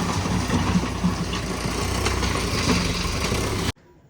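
A tractor engine runs loud and close with a steady, rough drone that continues without a break, then stops abruptly just before the end, leaving near silence.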